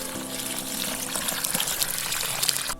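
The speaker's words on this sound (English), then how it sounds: "I'm putting water into the holes because the soil is too dry" Water gushes and trickles steadily into dry soil holes dug for planting bare root shrubs outdoors, a continuous close pouring with no talk over it.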